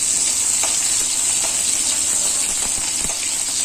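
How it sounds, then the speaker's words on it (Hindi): Dry red chillies hit hot oil with garlic already fried brown, giving a loud, steady close-up sizzle and frying hiss throughout, with a few soft stirring clicks near the end. "अब डालेंगे इसमें सूखा मिर्चा लाल वाला।"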